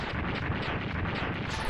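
Sigma explodes in the video game Mega Man X2 as a string of rapid, crackling blasts and booms, rumbling continuously at moderate loudness with a heavier thump at the very end.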